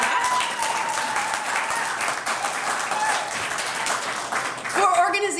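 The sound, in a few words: audience applause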